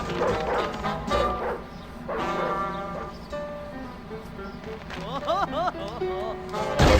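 A dog barks several times in the Ed, Edd n Eddy: The Mis-Edventures video game, with yips mixed into game sounds and a person talking over it.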